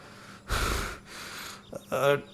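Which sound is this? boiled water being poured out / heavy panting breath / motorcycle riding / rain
heavy panting breath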